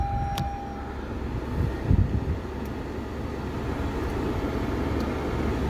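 The air conditioning fan in a 2019-2021 Toyota RAV4 cabin, heard from inside as a steady broadband whoosh of blowing air with a faint low rumble, even and unbroken throughout.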